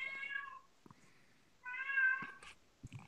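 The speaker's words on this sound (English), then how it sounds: "That cat." A cat meows twice indoors, two clear, fairly close calls with a short quiet gap between them, followed by a few faint knocks.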